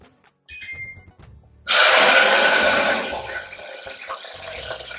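Tomatoes drop into hot oil in a pan, setting off a sudden loud sizzle that spits strongly and then settles to a steady crackle. A brief high tone and some faint noise come just before it.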